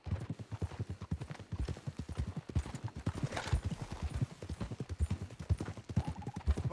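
Horses in the video game Red Dead Redemption 2 clip-clop at a gallop, a dense, steady run of close hoofbeats that carries on throughout with no talk over it.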